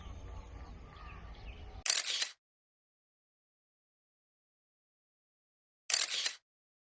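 Two short, loud bursts of a camera shutter firing in continuous mode, each lasting about half a second and separated by a few seconds of silence, following faint outdoor ambience with birds in the background.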